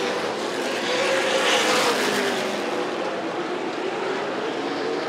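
Super late model stock cars racing on a short track during a twin 45 special, a loud roaring pack of engines sweeping past with a swell and fade, continuous and close, with no talk.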